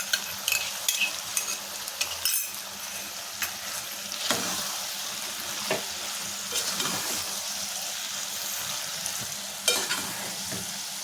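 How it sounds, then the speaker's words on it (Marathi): Ginger-garlic paste hitting hot oil, with a steady sizzle and frying hiss broken by repeated scraping stirs and clinks of a spoon in the pan, close and alone without talk. "याच्यामध्ये मी आता आलं लसणाची पेस्ट टाकते."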